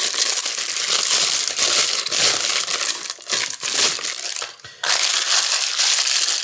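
Crumpled parchment paper being unfolded by hand gives a loud, continuous crinkling and crackling, close up, with short pauses, a brief quieter gap near the end, then more crackling.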